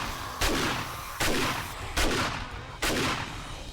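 An auto shotgun in the video game 7 Days To Die fires four loud, booming shots at a steady pace, each blast trailing off into a short echo before the next.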